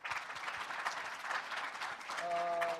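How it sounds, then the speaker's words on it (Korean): An audience applauds at a lecture, a steady patter of many hands clapping at moderate distance, with a voice coming in near the end. "박수."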